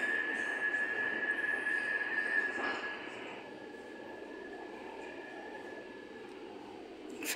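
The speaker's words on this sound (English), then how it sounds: "I am looking at an Avanti West Coast Class 803. This one is heading for London Euston." Avanti West Coast Class 803 electric train pulling away from a station toward London Euston, a steady rumbling roar with a high squealing whine in the first half that then fades to a softer running hum.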